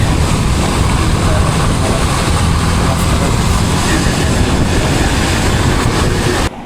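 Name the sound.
motorbike engine riding in rain and wind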